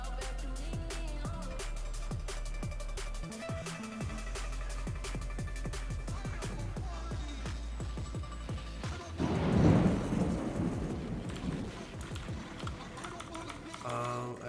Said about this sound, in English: Wow, that is a crazy storm going on right now.